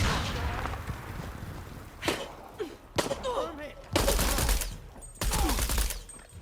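Bursts of rapid gunfire in the game Shadow of the Tomb Raider, loud and close, broken by short pauses, with a few thuds and game voices in between.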